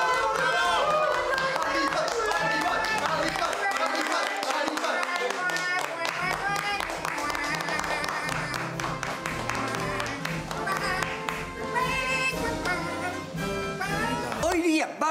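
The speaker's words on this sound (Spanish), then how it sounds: "¡Aplauso, por favor!" Audience applause at a school ceremony for the presentation of a brigadier's cord to a student: steady, dense clapping runs throughout, mixed with loud music and crowd voices.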